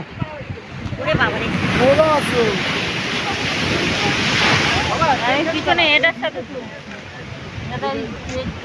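Sea waves washing in at the Digha river mouth, a continuous rushing surf with wind buffeting the microphone, while people talk and call out over it.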